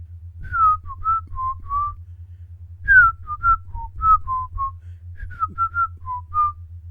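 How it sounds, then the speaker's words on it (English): Someone whistles a short, lilting tune in three phrases, clear and close, over a low steady hum. "whistle.mp3 because I can't do that"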